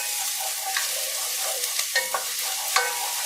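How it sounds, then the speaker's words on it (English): Diced white onion sears in a hot pan with a continuous bright sizzle, broken by a few soft stirring scrapes and crackles. "A continuous sear."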